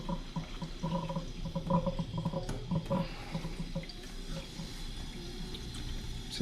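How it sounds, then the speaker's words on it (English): Water running from a reverse osmosis system faucet to flush out cleaning bleach, a soft steady splashing stream with faint gurgles, fairly quiet and unbroken throughout. "I'm also going to start the faucet to just let it run a little bit to get some of it out of here."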